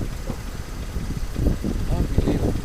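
Gasoline engine of an HPI Baja RC car, a 90 cc model, running steadily close by with a rough, buzzing drone that swells slightly, and voices talking over it throughout.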